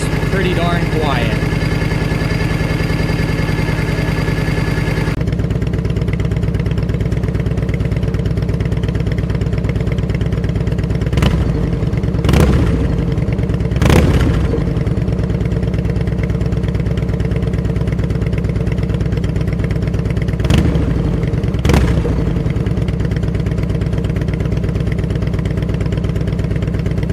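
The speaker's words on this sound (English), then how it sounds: "Engine itself is pretty darn quiet." Evo engine of a Harley-Davidson Road King idles steadily and loudly up close, a constant rumbling throb with a few brief clicks and knocks layered over it.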